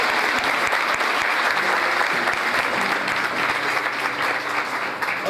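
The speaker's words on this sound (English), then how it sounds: "But a clap for Penny." A crowd at a Human Rights Commission awards breakfast claps loudly and continuously for an honoree, a full sustained round of applause with no talking on top.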